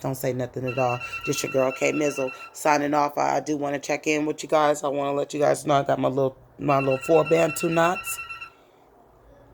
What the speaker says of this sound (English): Sorry about that phone ringing, y'all.